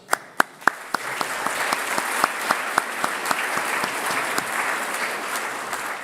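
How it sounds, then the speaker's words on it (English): An audience claps steadily in a big room at an Order of Canada investiture ceremony, sharp individual claps standing out over a dense wash of applause that carries through the whole stretch. "So keep clapping, ladies and gentlemen."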